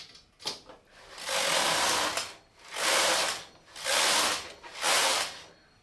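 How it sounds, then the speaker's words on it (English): A brand-new Taitexma knitting machine with an added weight is worked across in four rhythmic passes, each a close mechanical rasp and ratcheting of the carriage with short pauses between. "So this is a brand new knitting machine with a 40-year-old accessory."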